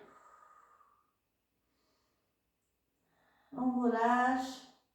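A long audible exhale during a back-stretching fitness exercise, a breathy rush with a voiced edge near the end, following a fainter breath and a pause of silence.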